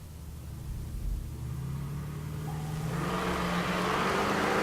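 A Cadillac STS-V drag car with a supercharged Northstar engine idles with a low rumble at a Tulsa Raceway Park race, then builds into a rising, louder engine roar toward the end.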